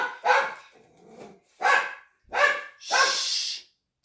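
A dog barks outside, several sharp separate barks with short pauses between them, fairly close and clear with no talking over them.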